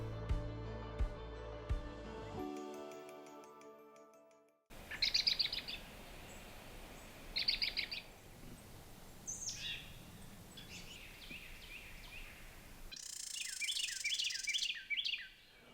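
Birds call in Congaree National Park in the evening, with repeated bursts of chirps and trills coming from moderate distance over a quiet outdoor background, and a denser, livelier chorus of song toward the end.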